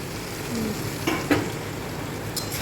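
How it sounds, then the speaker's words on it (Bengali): Spice masala stir-fried in a pan for a fish dish, giving a steady low sizzle with a few soft scraping stirs, heard close up with no talking. "এবার আস্তে আস্তে ওটাকে কষবে"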